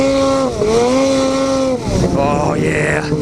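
A snowmobile with a new GGB trail can aftermarket exhaust revs up and settles, a throaty exhaust note rising and falling, with a brief burst of higher revving near the end.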